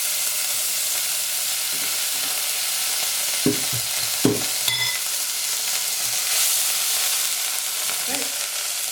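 Ready-made garlic and parsley butter sizzles and fries in a heated pot, a steady crackling hiss punctuated by a few sharp clanks of a utensil stirring against the metal.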